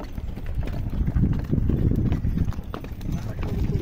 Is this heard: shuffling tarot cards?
no